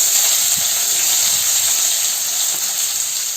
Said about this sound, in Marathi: आता याच्यामध्ये आहे ना आपला कांदा टाकायचा आहे